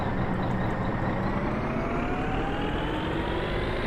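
A vehicle engine in a Miner's Car Simulator video game rises steadily in pitch after the hand throttle and pump engage, a continuous broad drone with no talking.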